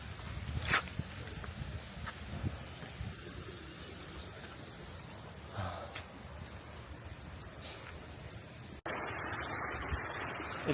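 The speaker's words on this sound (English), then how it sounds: "It's just so soothing with that water sound walking this entire trail." Water flows beside a muddy jungle trail through rice fields in Ubud. It makes a soft, continuous rushing wash, faint and mixed with gusts of wind noise, and one louder burst comes near the end.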